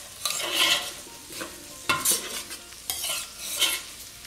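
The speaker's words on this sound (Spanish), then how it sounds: "Y vamos a dejar unos minutos para que el jamón se fría también." Cooked ham frying and being stirred in a discada on a metal disc, with scraping stir strokes recurring in several bursts over a steady sizzle, fairly close and without talk.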